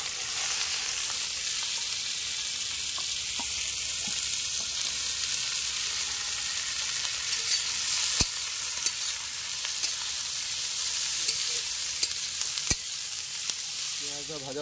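Onion frying in hot oil with dried red chillies, cumin, cinnamon, cardamom and cloves, a loud, steady sizzle with occasional stirring clicks, no talking.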